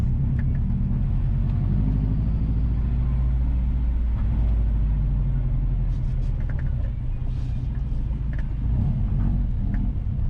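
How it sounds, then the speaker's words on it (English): Car driving west along Norman Avenue in Kingston, Jamaica, a steady low road rumble and engine drone with tyre noise, continuous and close throughout without talk. "Currently, we are driving west on Norman Avenue towards Lucas Road."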